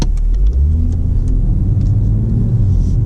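Loud, close rumble of a stock BMW M140i engine idling and revving steadily from inside the car, deep and continuous with no talking.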